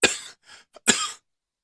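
Two rough coughs from a person, the first longer and followed by a short softer cough-like breath, then a brief catch and a second hard cough, close to the mic with silence after.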